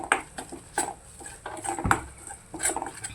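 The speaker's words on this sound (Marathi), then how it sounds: "ते व्यवस्थित असं मिक्स करायचं" Gram flour being stirred in a pan while cooking a drumstick dish: scattered light scrapes, clinks and taps of a spoon against the metal pan, fairly close and soft, with no talk.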